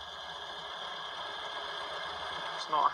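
A car engine with an SU carburettor idles with a steady, even hum while the idle screw is turned, and a brief rattle or clunk is heard near the end.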